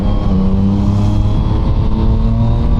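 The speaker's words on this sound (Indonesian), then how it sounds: "Tapi suara MT-09 nih yang paling gue suka ya, dia 3 silindernya tuh candu banget di kuping, apalagi ditambah dengan knalpot Akrapovic ini tuh" A Yamaha MT-09 three-cylinder motorcycle with an Akrapovic exhaust runs with a loud, steady, deep engine drone, held at a constant rumble close by.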